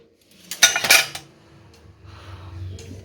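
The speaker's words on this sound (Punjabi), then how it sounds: "ਵੱਡੇ ਭਾਂਡੇ ਵੀ ਖੜਕਦੇ ਆ" A short burst of large metal pots, utensils and spoons clattering together, loud and close, followed by quieter rustling and a low hum.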